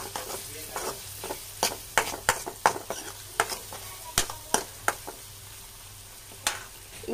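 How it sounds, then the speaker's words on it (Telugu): Pasta ingredients frying in a pan, a steady sizzle broken by repeated sharp scrapes and clinks of a spoon stirring against the pan, close and fairly loud, with no talking. "బాగా ఫ్రై అవ్వాలి"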